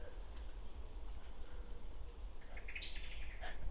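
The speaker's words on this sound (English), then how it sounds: "and lots of birds." Birds singing in Choppington Woods, a few faint chirps and short trilling calls at a distance over a steady low outdoor rumble.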